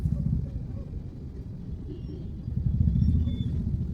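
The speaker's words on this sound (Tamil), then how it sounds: "சுத்தமாகவே வண்டி ஓட்ட முடியாத அளவுக்கு டிராஃபிக்ங்க இது மாதிரிங்க." Heavy road traffic in Coimbatore, a dense low rumble of engines and passing vehicles that swells louder toward the end, with no voices standing out.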